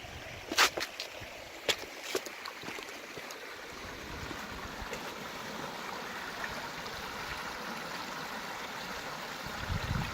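Steady broadband rush of a desert stream flowing from an oasis in Anza-Borrego State Park fills the clip, with a few sharp clicks or knocks near the start; no voices.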